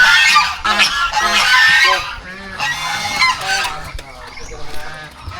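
A flock of geese honks loudly and close, with overlapping raucous calls in rapid bursts that ease off and then return. The geese are penned apart from ducks on a farm.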